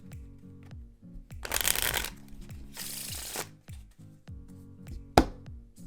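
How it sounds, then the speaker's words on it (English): A deck of playing cards riffle shuffled in two quick bursts of fluttering flaps, close up, followed by soft taps and a sharp squaring knock, with music underneath. "The Riffle shuffle."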